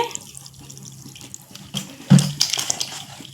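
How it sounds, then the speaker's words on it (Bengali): Water poured from a vessel into a bowl of flour and rice batter, a brief splashing pour in the latter half after a quiet start, close and fairly soft. "এখন জল দিয়ে দিচ্ছি"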